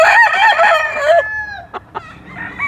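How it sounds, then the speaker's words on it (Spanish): A rooster crows loudly and close by in one long drawn-out call, followed by a couple of short clucks, with no talk over it. "También está chulado el gallo."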